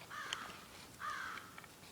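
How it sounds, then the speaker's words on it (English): Two raspy crow caws sound outdoors, about a second apart, moderately faint over constant ambient hiss, with no voices. "And those crows are yelling."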